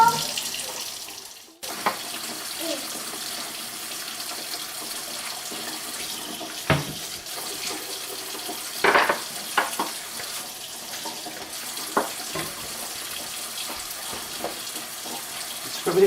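Tap water runs steadily into a sink while potatoes are scrubbed under it, a continuous splashing hiss broken by a few soft knocks and rubs.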